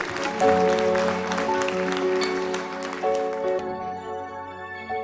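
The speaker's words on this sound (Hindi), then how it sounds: "शबीर अहमद भट्ट का जोरदार तालियों से स्वागत कीजिए" A burst of applause welcomes a participant onto a stage, sustained clapping filling the space while music plays underneath, the clapping tapering off toward the end.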